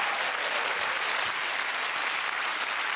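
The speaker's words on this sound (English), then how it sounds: "Massive round of applause." Studio audience applause on a UK game show, a dense, even roar of clapping that fills the whole stretch at steady loudness with no talk over it.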